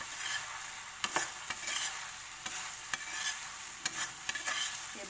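Bread pieces being stirred in a frying pan for a Schezwan bread snack, a steady soft sizzle broken by sharp clicks and scrapes of the spoon at irregular intervals, close and with no talking.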